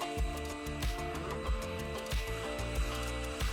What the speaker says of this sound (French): le sèche-cheveux fonctionne parfaitement dans cette situation